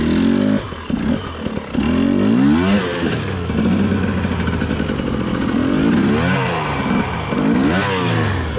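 A two-stroke enduro dirt bike revs hard and repeatedly on rough terrain, its engine pitch sweeping up and down in loud, close bursts of acceleration.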